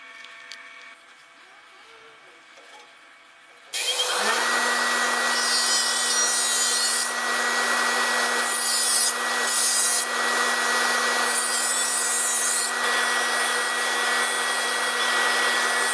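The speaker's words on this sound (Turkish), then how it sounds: "Şuranın plakasını kesmeye geçiyorum." A plate is cut for a homemade battery spot welder case with a power tool: a few seconds of quiet room sound, then a loud, steady, continuous whining and grinding noise that runs to the end.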